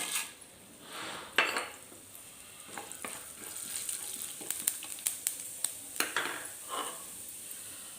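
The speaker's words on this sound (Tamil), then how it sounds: "உளுத்தம் பருப்பு இப்போ எண்ணெயில் சேர்த்துக்கிறேன்" Urad dal frying in hot oil for a ginger thuvaiyal, a steady crackling sizzle broken by sharp ladle and pan clinks, close and fairly loud with no talk.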